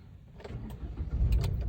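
A 2014 Hyundai Grand i10 with a 1.0 engine starts with a quick one-click crank and catches into a quiet idle, brief and close.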